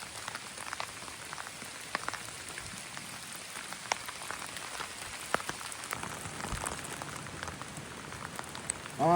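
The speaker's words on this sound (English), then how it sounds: "it's still raining" Steady rain falls on a hiking trail, a dense, even patter of drops at moderate distance with occasional sharper nearby splashes, continuing without pause and with no voices.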